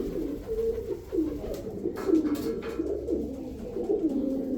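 Soft pigeon cooing rolls on in low, throaty phrases, steady and close, with a faint rustle in the background.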